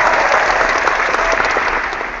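Dense, steady applause from a crowd, many hands clapping at once with no voices, fading slightly toward the end.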